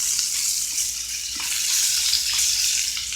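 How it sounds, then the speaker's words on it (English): Chicken sears in bacon fat in a hot pan, giving a steady, loud, close sizzle with faint crackles throughout and no voices. "Get the chicken into the pan here. Now we can start searing stuff up."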